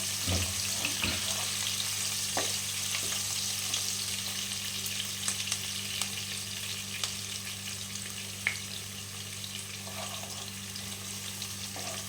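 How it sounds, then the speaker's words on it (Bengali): Chopped small onion fries steadily in hot oil in a home kitchen while rui fish curry is prepared, a continuous close sizzle with occasional stirring clicks and a faint tap-like hiss, no talking. "এইখানে একটা ছোট পেঁয়াজ যেটা কুচি করেছিলাম সেটা দিয়ে দিচ্ছি। এটা একটু লাল করে ভেজে নেব পেঁয়াজটা।"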